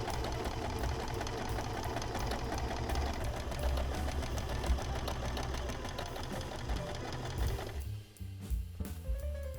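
A sewing machine runs steadily while stitching a curve on a sweatshirt, a continuous close mechanical whirr and rapid needle chatter that drops away briefly near the end.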